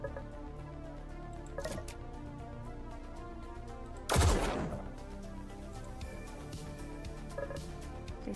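A weapon fires in the Echoes Lucid9 fangame: one loud, sharp blast partway through, set against a steady electronic drone and low hum.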